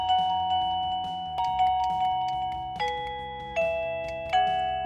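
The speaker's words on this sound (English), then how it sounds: "So this is what happens when someone rings the bell." An indoor chime from a Reolink video doorbell plays a tune of several bright, ringing bell-like notes, each struck clearly and left to decay before the next. It is close and fairly loud, with no talking.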